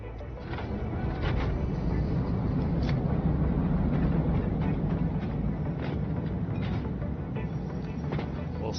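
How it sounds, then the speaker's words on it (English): Self-driving trains in the Satisfactory video game, with a steady rumbling rail roll and some clicking, moderately loud and continuous with no pauses. "I should be able to set those trains to self-drive at this point."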